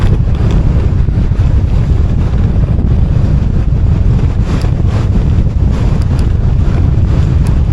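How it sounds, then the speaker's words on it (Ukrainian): Strong, steady headwind roars and buffets the microphone without a break while cycling uphill across a field, a dense low rumble with no voices. "А такий вітер зустрічний."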